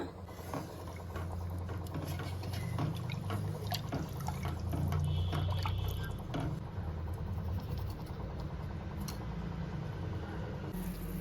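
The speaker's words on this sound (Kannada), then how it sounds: "ಇದು ಇವಾಗ ಚೆನ್ನಾಗಿ ಕುದೀತಾ ಇದೆ" Egg curry gravy bubbles on a stovetop, a quiet, steady patter of small pops and drips held close, with faint clicks scattered through and nobody talking.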